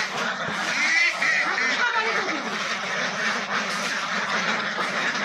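A flock of ducks about ten months old, on a farm of roughly 250 birds, quacks and honks in a busy overlapping chorus, fairly close, with voices murmuring in the background.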